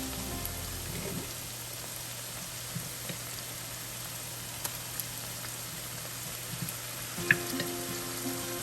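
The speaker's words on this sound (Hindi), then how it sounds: "अब हम इसमें लहसुन अदरक का पेस्ट शामिल कर देंगे।" Garlic ginger paste sizzling with onions in olive oil in a pan while moong dal is made, a steady crackling fry with faint scattered pops and a sharp clink near the end.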